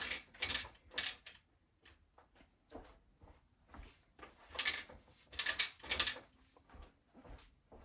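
Clicking, ratcheting bursts from the rollers of a long arm quilting frame as a quilt with a Minky backing is rolled up, in two clusters of sharp clicks with quieter mechanical knocks between them, close by and with no talking.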